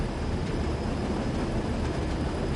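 Heavy BR freight train in the Train Sim World 2 game, a continuous loud rumble of wheels and engine with a faint high whine running throughout, close and steady.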